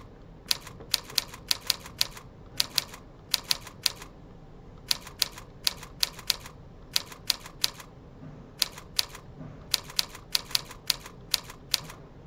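Typing on a computer keyboard during a typing tutorial lesson, sharp plastic key clicks in uneven bursts and short runs, close and fairly quiet over faint room noise.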